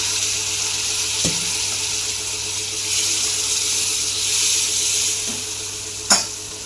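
Water poured into a hot pan of brinjal and potato bhaji cooking with turmeric, coriander powder, chilli powder and kasuri methi gives a steady sizzling hiss, with a few sharp clinks near the start and end.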